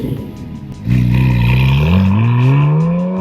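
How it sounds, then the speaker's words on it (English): A Porsche GT4RS's naturally aspirated six-cylinder engine fires up close by after a brief starter whir, then settles into a loud, smooth idle that climbs slightly and holds steady. "It is an absolutely beautiful sound of a naturally aspirated 6-cylinder engine"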